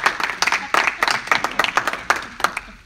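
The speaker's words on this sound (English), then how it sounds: "We're applauding you." A small group of people claps for Tim, a program manager, during a team live stream, with sharp, uneven hand claps in close bursts under light background voices.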